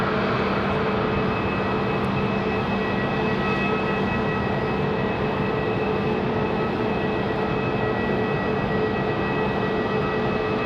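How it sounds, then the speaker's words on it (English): A Delta airliner arriving from Minneapolis touches down at Raleigh-Durham International, a steady, unbroken broadband roar of engines and rushing air that holds an even level throughout with no voices. "Delta 2699 touchdown there from Minneapolis."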